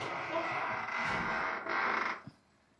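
A home oven door swings open with a sustained creak, fairly close and loud, ending in a short knock as it settles, while Jamaican potato pudding is being put in to bake.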